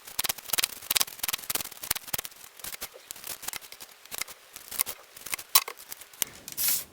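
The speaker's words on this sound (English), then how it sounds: "So let's shuffle the cards and see what message the universe has for you." Tarot cards being shuffled by hand, a long run of quick crisp riffles and soft papery slaps in irregular bursts, close and fairly quiet with no voices.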